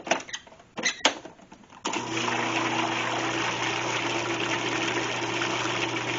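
A blender whirs steadily through the liquid ingredients for homemade hummus, starting abruptly after a few brief knocks and clatters, then running as a loud, continuous mechanical drone to the end.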